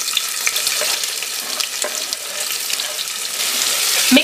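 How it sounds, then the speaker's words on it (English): Garlic and chopped onions fry in hot oil with cumin seeds and peppercorns, a loud steady sizzle and crackle broken by stirring clatters and scrapes. "Now I'll add garlic and chopped onions to it."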